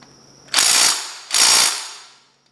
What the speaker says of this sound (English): I'm going to grab my torque wrench and we'll torque them the rest